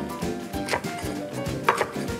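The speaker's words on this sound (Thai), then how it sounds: "หั่นเหมือนเดิม" A knife chops vegetables on a board for Thai chap chai soup in a quick, steady series of sharp taps, close by and moderately loud.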